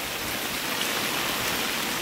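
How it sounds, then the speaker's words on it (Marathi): A small waterfall with water flowing and splashing, a steady broadband rush heard close by, continuous and even throughout with no voices. "बघा पाणी कसं जाते, वाहतं मस्त. धबधबा, छोटासा धबधबा बघा आमच्या इकडचा."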